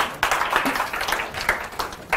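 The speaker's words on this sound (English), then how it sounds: "You give a round of applause, right?" Applause breaks out at a programming talk as the crowd claps for a presenter, a short burst of uneven clapping with sharp individual claps rising and falling over a couple of seconds.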